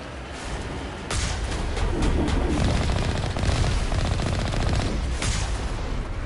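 Dense, sustained gunfire from Mass Effect played on PS5 at Insanity difficulty, rapid overlapping automatic bursts and shots that swell after a quieter opening and continue loud throughout.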